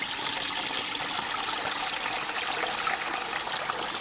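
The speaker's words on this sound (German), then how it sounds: "Und jetzt spülen, spülen, spülen. Seht, der Wasserdruck, das kommt nicht mehr nach." Water rushing and trickling steadily through a car's diesel particulate filter as it is flushed out, a continuous close hiss and splash with no pauses and no voices.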